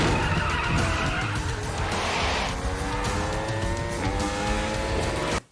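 A high-revving Yamaha R1 crossplane motorcycle engine screams past amid loud track noise, its pitch climbing and shifting through gears, with tire squeal underneath.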